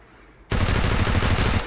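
An MP5 fires in a video game as one sudden, loud, sustained burst of rapid automatic shots that starts abruptly and continues to the end.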